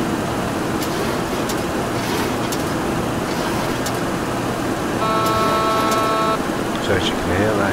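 Aircraft engines wind back to throttle idle during a descent through 18,000 feet. A steady, dense cockpit roar continues throughout, with a brief run of tonal beeps near the end.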